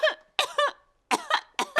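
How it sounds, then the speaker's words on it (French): A cartoon character coughs in a French Peppa Pig episode, four quick bursts of two or three harsh hacks each, close and clear, separated by short silences. "C'est à présent au tour des adultes d'attraper la toux de Pedro."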